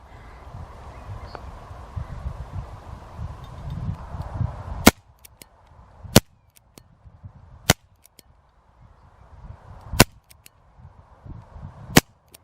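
A CP88 air pistol fires pellets outdoors, five sharp, loud single cracks spaced a second or two apart, with quieter clicks between them and low rumbling background noise before the first shot.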